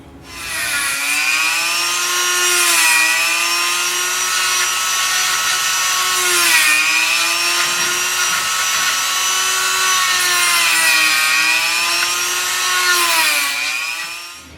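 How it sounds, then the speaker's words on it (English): A Dremel rotary tool with a wire wheel cleans metal connector pins on a Mazda RX3 wiring loom, giving a loud, steady, close whine with a rasping scrub that rises and dips slightly as it presses. "I do have my Dremel. I've got a little wire wheel kind of deal on there."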